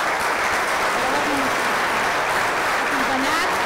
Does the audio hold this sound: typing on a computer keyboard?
no